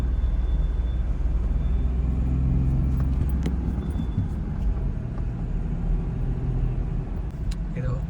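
A car drives along a road in the Kalagarh Tiger Reserve, its engine and tyres producing a steady low rumble throughout, with someone talking over it.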